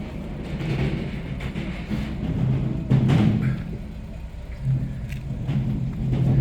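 A car rolling past through a Saturday market, a low engine rumble swelling and fading with faint jangling in the busy background.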